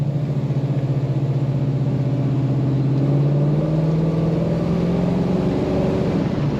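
A 1940 Ford Deluxe convertible street rod with a non-stock engine and automatic transmission revs steadily on the throttle, a close, continuous engine rumble with rising pitch and no talking.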